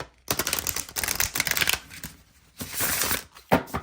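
An Oracle of Destiny palmistry card deck is riffle shuffled up close, a fast fluttering burst followed by a second, shorter cascade and a final tap of the deck.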